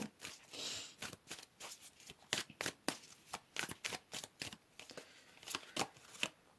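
Tarot cards being shuffled and pulled, a rapid series of crisp riffles and slaps in uneven bursts, close and clear with no voices.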